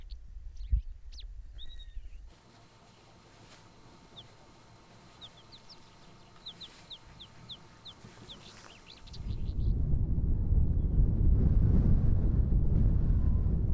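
Wind over Mongolian grassland rushes against the microphone, starting faint after scattered bird chirps and then swelling into a loud, steady roar for the last few seconds.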